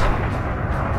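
Weapons on an Anaconda ship in Elite Dangerous fire in a brief, loud, heavy booming burst lasting about a second, with no talking.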